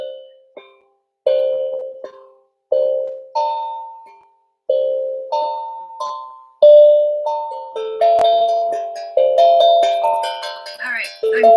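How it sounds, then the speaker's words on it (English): A bell is struck repeatedly, about a dozen clear ringing strikes in steady succession, each tone ringing out and decaying before the next, growing denser and brighter toward the end, close and with no talking. "Did you know you can just hit a bell and then it clears the air?"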